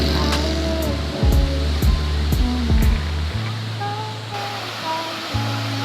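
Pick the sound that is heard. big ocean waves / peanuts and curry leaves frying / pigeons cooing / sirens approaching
big ocean waves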